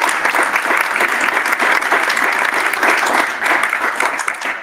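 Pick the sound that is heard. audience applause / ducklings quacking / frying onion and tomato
audience applause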